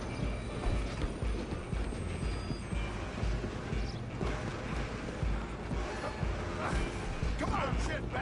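A train rolls along in Red Dead Redemption 2, a steady rumbling clatter of wheels and cars under loud shouting voices and galloping horse hooves during a chase.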